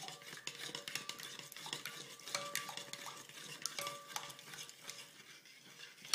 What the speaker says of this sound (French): nous mélangeons nos jaunes d'œufs avec notre lait concentré sucré à l'aide d'une cuillère